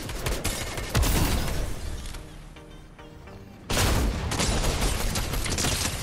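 Ranger shotgun blasts fire in a video game, arriving as loud, dense bursts of gunfire with a brief lull in the middle before the shooting resumes.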